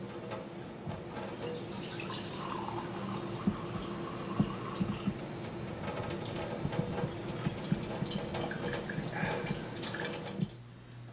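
Water runs steadily from a countertop water filter system fed by the cold supply through a diverter, a continuous close splashing stream with small drips and clicks, stopping abruptly near the end.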